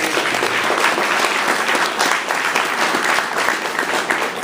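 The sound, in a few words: audience applause for candidates at forum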